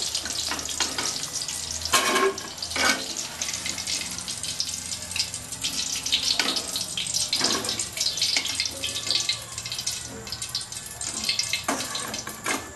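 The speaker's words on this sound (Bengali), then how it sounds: "হয়ে গেছে আমার চিকেন পকোড়া। একটু লাল লাল করে ভাজতে হবে।" Chicken pakora deep-frying in hot oil for Bengali-style chilli chicken, a steady crackling sizzle with occasional sharper bursts and clatter, loud and close with no talking.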